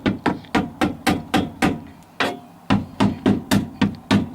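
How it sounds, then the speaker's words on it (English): A hammer taps rhythmically on a car chassis to knock material off, about fifteen sharp metallic-woody strikes in a steady beat with one short pause midway, close and loud. "And you can kind of hear it break whenever you smack it with the hammer."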